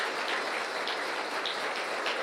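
A church congregation applauds during a morning service, a dense, steady wash of many hands clapping that fills the room without pause.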